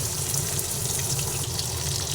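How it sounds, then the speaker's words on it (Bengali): Foli fish frying two at a time in hot oil in a pan, a steady, close, hissing sizzle that runs without a break. "দুটো করে মাছ একসঙ্গে দিয়ে ভেজে নিচ্ছি"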